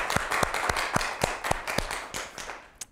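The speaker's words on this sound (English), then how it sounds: "So can we have a round of applause for..." A theatre audience applauds in steady rhythmic clapping over a soft crowd wash, with one nearby pair of hands standing out, fading toward the end.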